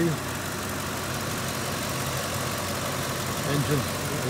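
A 2006 Ford F-250 engine idling steadily with a constant mid-to-low rumble and a faint knock, under someone talking over it.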